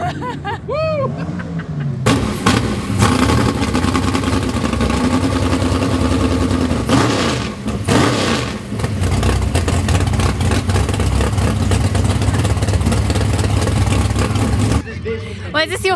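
Drag boat engine at a jet boat show, a loud sustained roar that swells and revs for most of the stretch, with cheering and voices briefly at the start and end.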